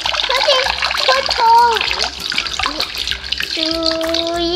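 Water pours through holes punched in a waste box, splashing and spattering in a continuous rain-like stream, with a voice talking over it.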